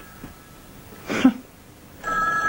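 A home telephone rings: a short burst of ringing midway, then a steadier tone starting near the end, heard nearby indoors with no one speaking.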